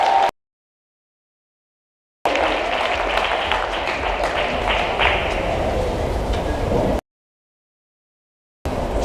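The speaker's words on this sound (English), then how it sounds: "Let's give a round of applause to our please." After a silent stretch, an audience at a gathering breaks into steady applause for about five seconds, a dense, even wash of clapping, then silence again.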